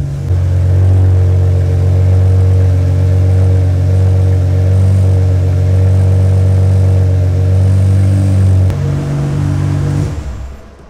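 A Lamborghini SV's engine holds a loud, steady, deep idle-to-rev drone at close range for about nine seconds, shifting pitch briefly near the end before cutting off and going quiet.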